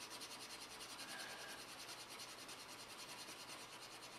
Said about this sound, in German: diese Spachtelmasse, die lässt sich wirklich super schleifen